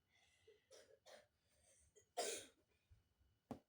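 A young girl coughs several times in short, faint bursts with a stronger cough in the middle and another near the end, in an otherwise quiet room.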